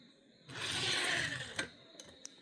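A Matchbox Buick Skylark convertible die-cast car rolls down a test track, giving a steady, fairly loud mechanical whirring rattle from its wobbling wheels for about a second, followed by a few sharp clicks and taps as it reaches the end.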